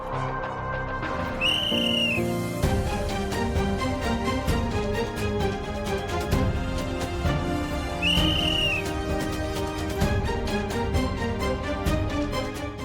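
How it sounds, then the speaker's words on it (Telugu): A whistle is blown to start a race game, giving two short, shrill blasts several seconds apart. Both cut through loud, continuous background music with a steady beat. "విజిల్ వేయండి"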